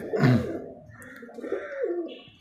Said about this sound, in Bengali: মাশাআল্লাহ অসাধারণ একটা কবুতর